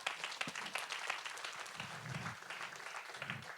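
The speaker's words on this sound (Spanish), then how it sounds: "Dele un aplauso al Señor." A congregation claps at a Spanish-language church service, a fairly soft, uneven patter of many hands with a few louder individual claps standing out, continuing steadily throughout.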